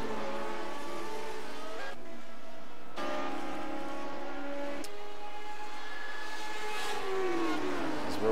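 Classic Lotus Grand Prix race cars in a racing video game, high-pitched engines whining steadily, with pitch rising and dropping through gear changes and passes, loud and continuous with no talk.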